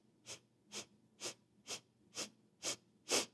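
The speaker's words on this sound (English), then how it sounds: "So you're gonna, in an 8-stroke inhale through the nose." Eight short, sharp sniffing inhales through the nose, evenly spaced and close, demonstrate a breathing exercise, each burst a quick hiss in steady rhythm with silence between.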